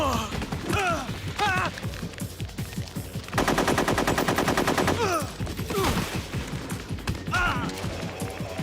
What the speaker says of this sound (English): He learned how to fire his gun just a little too late.